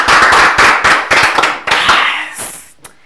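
A studio audience breaks into applause, several loud rhythmic waves of clapping close to the mic that taper off, ending with a hiss and a single sharp tap.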